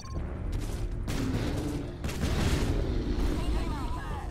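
Cannon and gun volleys fire in Strain Tactics, heavy booming blasts and rattling gunfire in rapid bursts, loud and dense, with a voice shouting over the barrage.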